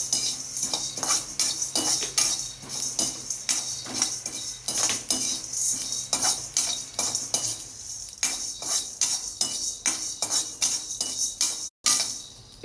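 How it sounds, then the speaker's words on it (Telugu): Peppercorns, chana dal and coriander seeds dry-roast in a pan, stirred with a metal spoon that scrapes and clinks in a quick, repeated rhythm, near and fairly loud, with a brief dropout near the end. "అర టీ స్పూన్ మిరియాలు, శనగపప్పు వేసి ధనియాలు అని చెప్పినట్టున ఒక టీ స్పూన్ ధనియాలు. ఇది దోరగా వేయించుకుందాము."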